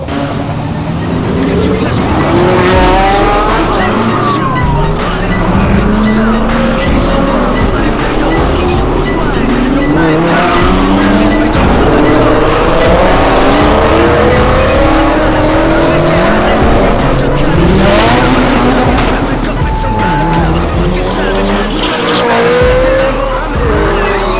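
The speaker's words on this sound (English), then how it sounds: "the exhaust is just echoing back and forth, shaking everything in town" Rally cars roar through a tight town street lined with buildings, exhaust note echoing off the walls, engines revving and tires squealing continuously at close range, with voices mixed in.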